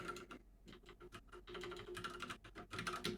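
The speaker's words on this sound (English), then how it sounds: "I'm laughing because you're making the typing noises." Quiet, close keystrokes tap unevenly on a computer keyboard, short clusters of clicks with brief pauses between them.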